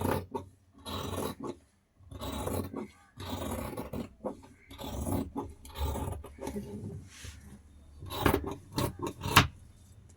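Fabric sleeve for a frock nighty being cut, heard as close, uneven scissor snips and rubbing, scraping handling sounds spread through the passage, moderately quiet and without speech.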